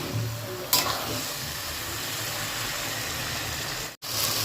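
Taro greens fry with turmeric in a hot pan in a Bengali home kitchen, making a steady close sizzle with a brief stirring scrape near the start and a short break near the end.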